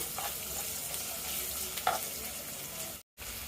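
Onions frying in oil, stirred for chicken curry, giving a dense, continuous sizzle with faint scrapes of the spatula, close and steady, cut by a brief dropout near the end.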